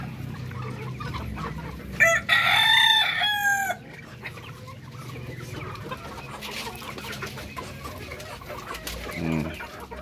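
Darag native chickens crowding in for a feed of cracked corn and mixed grain, with a loud rooster crow near the start over steady clucking and scratching from the flock, close by.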